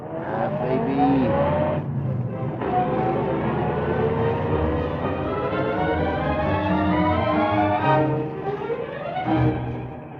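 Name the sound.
taxi driving through traffic, radio drama effect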